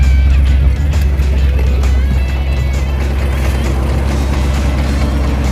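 Steady road and engine rumble from a moving car with a loose right rear wheel, with a continuous low drone and faint rhythmic knocking underneath, no voices.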